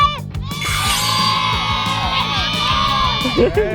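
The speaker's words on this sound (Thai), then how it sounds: "ขอเสียงเชียร์หน่อย ขอเสียงเยอะหน่อย" A loud crowd of young voices cheers, whoops and yells continuously at a children's football contest, with sustained shouting and rhythmic chanting throughout and no pause.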